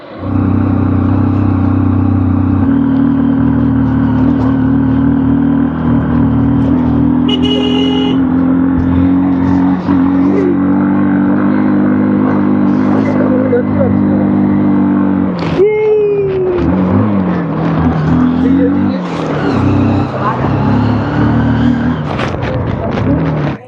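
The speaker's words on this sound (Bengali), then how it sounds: "চলুন তাহলে বাইকে যাওয়া যাক।" A motorbike ride toward Parashnath Hill in Jharkhand: a steady, close engine drone runs throughout, turning rougher with revving and clatter in the last third, with faint voices now and then.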